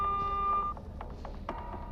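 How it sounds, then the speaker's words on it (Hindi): A telephone number is dialed as a sound effect in an audio drama: a quick run of touch-tone keypad beeps, followed by a few short, sparse electronic bleeps, clean and close. "अहान ने शनाया का नंबर डायल किया तो वो नहीं लग रहा था।"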